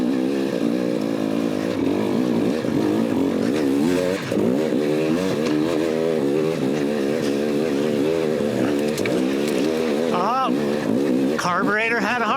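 A 2018 KTM 250 XC-W TPI two-stroke dirt bike climbing a hill on rocky desert terrain, its engine revving and wavering steadily close to the microphone with a rising rev near the end, while a rider talks over it.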